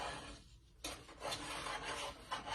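Homemade play dough is stirred in a pot, giving a quiet, scraping rasp of a utensil dragged repeatedly through the thick mixture. Short rubbing strokes come close together after a brief pause.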